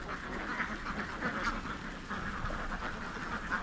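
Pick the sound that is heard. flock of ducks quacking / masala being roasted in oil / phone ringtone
flock of ducks quacking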